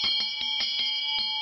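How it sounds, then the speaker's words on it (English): An antique brass teacher's desk bell is struck repeatedly, each close, clear ding ringing out in quick succession with a sustained metallic tone between strikes. "And an antique brass teacher's desk bell."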